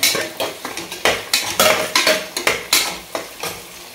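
Green chilies fry with onions in a pot for mutton biryani, with a rhythmic series of loud spoon scrapes against the pot over a sizzle.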